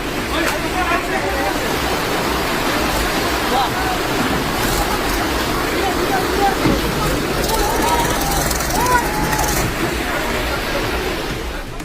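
Floodwater rushing in Himachal Pradesh as a rescue tractor crosses it, a loud continuous roar of churning water throughout, with voices and commotion mixed in under the flow.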